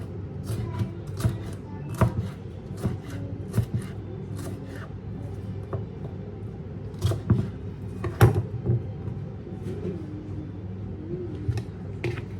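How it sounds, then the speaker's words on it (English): Capsicum being chopped with a knife on a board, a run of sharp, close chopping strikes in uneven bursts over a low steady background, with no talking. "Might just cut up a bit more capsicum."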